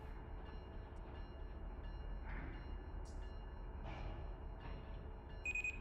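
A heavy oil freight train in the Run 8 Train Simulator game on Tehachapi, with slack running in: a low steady rumble under faint metallic clunks and squeals, ending in a brief high tone, and no talking.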